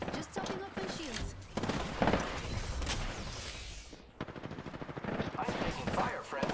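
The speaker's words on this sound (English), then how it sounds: "I am taking fire, friends." Gunfire from a firefight in Apex Legends, with dense bursts of shots and booming impacts running throughout, mixed with game effects and a voice talking over it.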